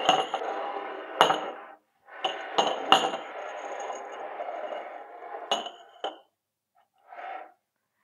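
Glass containers of vanilla ice cream samples being shuffled around on a surface, with bursts of sliding friction and several sharp glassy clinks, close and fairly loud, followed by a short pause and one last brief slide.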